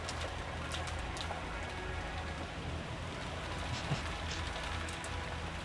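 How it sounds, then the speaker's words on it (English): Heavy rain ambience from the visual novel Umineko, a dense continuous downpour with a steady wash of drops and no breaks, even in level from start to finish. "Outside, the rain was incredible and the wind strong."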